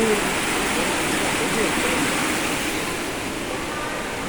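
Steady, dense rushing of an indoor waterfall in a roofed park fills the space evenly, a continuous loud wash with no pauses.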